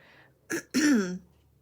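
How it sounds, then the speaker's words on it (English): A woman coughs once sharply and then clears her throat, two close, loud bursts in otherwise quiet surroundings. "I paused for a minute because I was coughing and carrying on"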